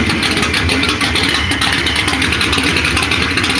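A roughly 450-horsepower LA block V8 truck engine idles steadily and loudly up close, with a rough, even drone and no talking.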